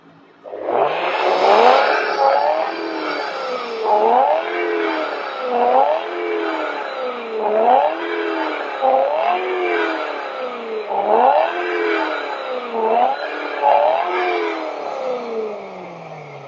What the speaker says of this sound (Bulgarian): И хайде да парим и да я чуем. Ще реда газ тук на място